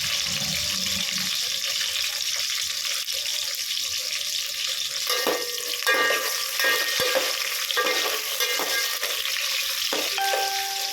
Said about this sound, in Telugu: కొంచెం దోరగా వేయాలి ఆనియన్స్ అయితే దోరగా వేగేసాయి